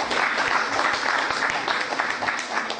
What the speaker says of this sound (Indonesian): mari kita kasih aplaus buat Profesor Edi Sriwadi